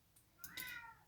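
An orange cat gives a single soft, rising meow indoors, faint and close, with a quiet lead-in before the main call.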